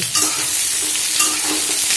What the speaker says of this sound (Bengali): এখানে দেখো পটলগুলো আগেই ভাজবো ভালো করে